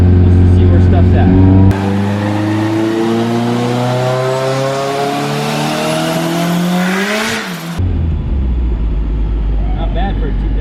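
A cheap turbocharged Honda Civic engine revs in a short burst, a loud rising roar that climbs steeply in pitch for several seconds before cutting off abruptly, with idle rumble before and after.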